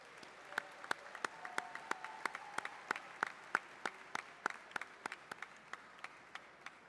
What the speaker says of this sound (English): Seniors, please turn to your parents and guardians and applaud them for their support through this journey.